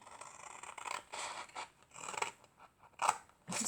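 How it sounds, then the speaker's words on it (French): Scissors snip and crunch through a cardboard rectangle for a homemade Christmas chocolate box, in close, uneven bursts of rasping cuts with short pauses between strokes and no talking. "On prend le ciseau. On va venir couper"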